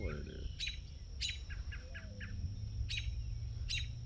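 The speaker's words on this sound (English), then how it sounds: "birds are talking this morning" Small birds chirp and tweet outdoors on a breezy morning, short bright bursts repeating every second or so, fairly close, over a low steady background hum.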